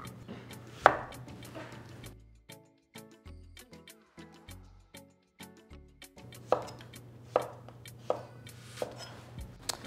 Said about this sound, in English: Two zucchinis, and we're going to cut those as well.